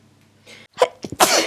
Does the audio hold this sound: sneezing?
yes